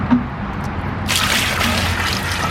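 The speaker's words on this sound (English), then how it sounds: "let me empty the water." Water from an electrolysis tank used to clean rusty dug relics pours out in a steady gush, rising to a broad rushing splash partway through, close and continuous.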